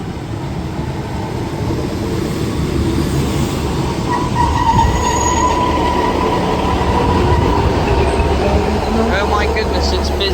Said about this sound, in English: So the first train is arriving round this corner very shortly.